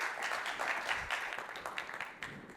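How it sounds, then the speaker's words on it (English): Conference audience applause for a speaker coming on stage, a brief, fairly faint patter of clapping from a room of listeners that fades over a couple of seconds. "Thank you, Oz, and a round of applause."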